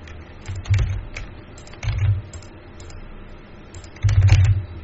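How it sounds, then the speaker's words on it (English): Keys on a computer keyboard clack in short irregular bursts of typing, close and fairly loud, with pauses between the flurries and no talk. "So the keyboard is working."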